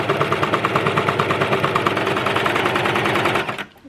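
A sewing machine stitches the fly of a pair of pants in one continuous run of fast, even, rattling needle strokes, close and loud, slowing and stopping at the end.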